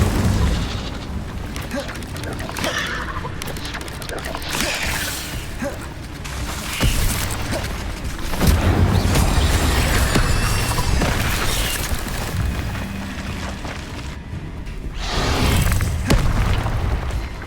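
Incendio fire spells blast in Hogwarts Legacy, repeated booming bursts and roaring flames over rumbling game action, loud and continuous across the stretch with several distinct surges.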